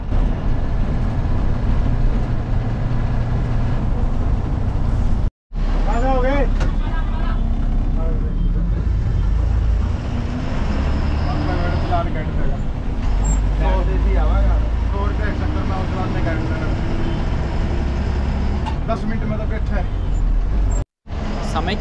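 Haryana Roadways bus running at speed on the 152D expressway, a steady loud engine and road roar filling the interior with tyre and wind noise, two brief dropouts, and a voice talking over it.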